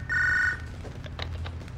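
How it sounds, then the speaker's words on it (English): A telephone rings once, a bright electronic tone lasting about half a second, followed by faint thumps and rustling. "Whose phone is ringing?"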